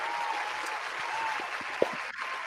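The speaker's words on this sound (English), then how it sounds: "Give yourself a round of applause." A small group claps on a talk show after a quarterback is picked in an NFL Draft panel game, a modest, fairly quiet patter of hands with a few sharper individual claps.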